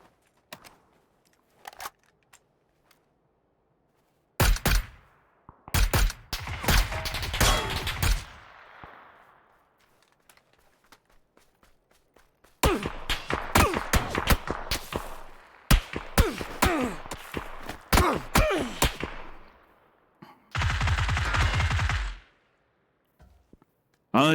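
Bursts of gunfire from the Fallout 4 video game, a few loud volleys of rapid shots separated by quiet stretches, with one long sustained burst and a later short hissing blast.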